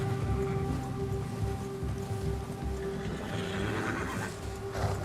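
A horse whinnies and snorts in Red Dead Redemption 2, its agitated neighing rising over steady rain and occasional hoof clops, loud and close throughout.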